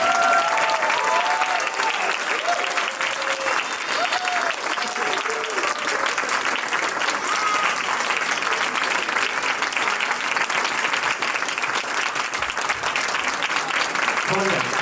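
Loud, sustained applause from a crowd at a music festival's prize-giving and honoring ceremony in Nashville, dense clapping filling the hall throughout, with a voice briefly audible early on.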